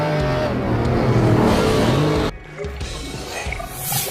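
Car racing in a VR game with single-player and multiplayer races, a loud sustained engine roar that cuts abruptly to a quieter, thinner engine tone partway through.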